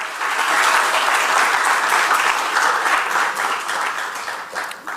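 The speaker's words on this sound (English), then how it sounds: "a round of applause for Mia Lonell" An audience applauds an award winner for outstanding exam results at a school awards presentation, a sustained, dense round of clapping that holds steady and tapers slightly at the end.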